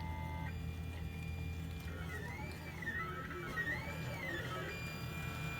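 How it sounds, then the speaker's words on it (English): 3D printer at work printing a Deathly Hallows model, its stepper motors giving off wavering, warbling electronic tones in repeated sweeping arcs over a low steady mechanical hum, fairly quiet and with no talk. "of the printer at work."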